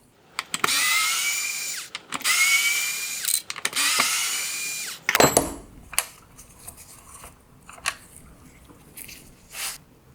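Power screwdriver backing out T20 screws from the inner projector mount of a 2016-2022 Camaro xenon headlight: three loud whirring bursts in the first five seconds, followed by scattered clicks and light handling knocks of plastic parts.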